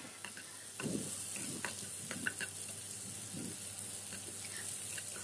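Onion frying in a pan for fish masala, a faint continuous sizzle with a few soft stirring scrapes and light clatter, quiet and even throughout, no talking.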